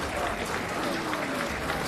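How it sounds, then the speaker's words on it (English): Light applause drifts from the stands at a university rugby match between Loughborough and Exeter, a steady, moderately distant patter of clapping lasting the full stretch with a faint crowd murmur beneath. "light round of applause echoes from the stands for the Exeter number 9 as he leaves the field"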